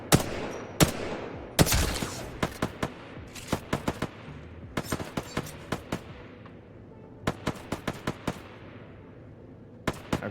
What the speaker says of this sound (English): then shoot at these targets right here